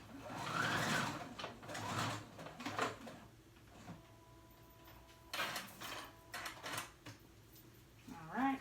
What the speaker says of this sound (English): Zigzag stitch.